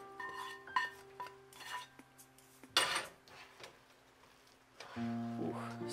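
Spoon scraping and clinking in a pot as a mushroom mixture is stirred into cheesy risotto, with intermittent scrapes and knocks, a louder burst midway and a steady hum in the kitchen.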